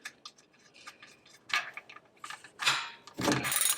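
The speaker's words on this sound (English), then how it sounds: "Go ahead and put the drain plug back in." An oil drain plug is screwed back into the oil pan of a BMW X1 xDrive35i with an N55 engine, small metallic ticks and ratcheting clicks coming in irregular bursts up close, louder toward the end.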